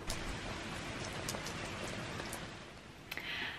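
Torrential autumn rain in the Cotswolds patters in a steady, dense hiss of drops on surfaces, with a few sharper drips standing out near the end, with no one speaking.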